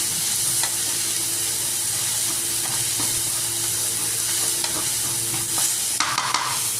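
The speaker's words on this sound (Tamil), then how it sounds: "அதுக்கு அடுத்து அதில் கொத்தமல்லி நம்ம அரிஞ்சு வச்சுருந்தோம் இல்லையா? அதை போட்டுக்கலாம்" Chopped coriander leaves sauté and sizzle in a pan for coriander chutney, a steady close frying hiss with occasional stirring scrapes and a brighter burst of sizzle near the end, no talking.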